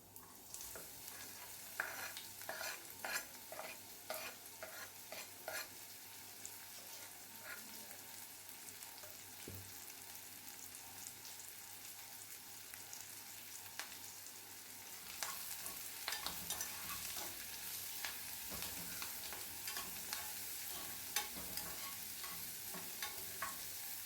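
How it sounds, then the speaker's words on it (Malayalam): Chopped onions, green chili and curry leaves with salt sautéing in a pan: a steady bright sizzle with irregular stirring scrapes throughout, growing louder and hissier partway through, with no talk. "ഇനി രണ്ട് സവാള ചെറുതായിട്ട് അരിഞ്ഞതും ചേർത്ത് കൊടുക്കാം ഒരു പച്ചമുളക് ഒരു കറിവേപ്പില ഇതെല്ലാം ഉപ്പിട്ട് ഒന്ന് വഴറ്റിയെടുക്കാം"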